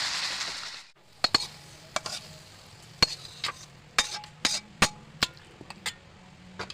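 Fish head being stirred into taro greens cooking in a pan, a steady low sizzle under a series of sharp scraping and clinking strokes of a spoon against the pan, fairly close.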